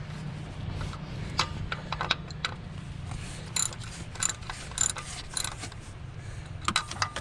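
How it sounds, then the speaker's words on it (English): A ratchet clicks in short runs while three bolts are tightened on the belt tensioner of a 2003 Ford F150, with close metallic ticks and small clanks of tools coming in uneven bursts. "Just tighten down the 3 bolts."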